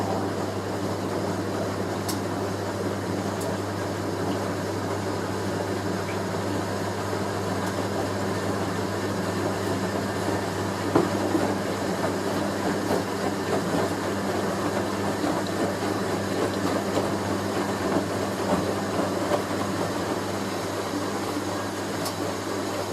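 A Hoover A3060 Electronic 1100 washing machine in an unbalanced final spin, a steady loud motor hum and drum rumble running continuously with slight wobble and occasional knocks, close and alone.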